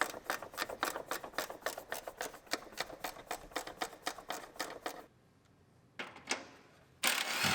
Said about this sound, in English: so just use a ratcheting wrench.